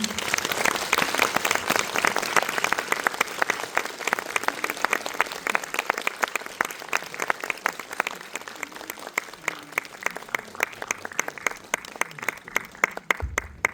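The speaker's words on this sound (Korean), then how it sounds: "큰 박수로 환영해 주십시오." Sustained audience applause welcoming guests at a Korean film event for the animated film Ghost Cat Anzu, with dense, steady clapping for most of the span before it thins and stops near the end.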